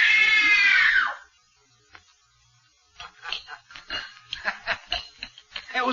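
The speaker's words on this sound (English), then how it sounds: "It was only a simple scream test" A woman's loud, high scream in a film scream test lasts about a second and then cuts off. Brief silence follows, then faint scattered clicks and rustling.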